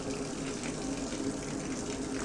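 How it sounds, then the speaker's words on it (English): Hot water pours steadily into an electric mushroom pasteurization barrel, a soft continuous gushing that stays even throughout and sounds fairly faint. "refill it with a little bit of hot water"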